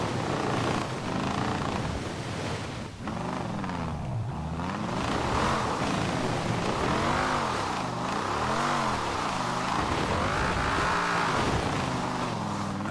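Engine of a 1968 Mustang GT Eleanor drifting in Forza Horizon 4, loud and continuous, pitch rising and falling in repeated sweeping waves as the revs surge and drop, close and alone.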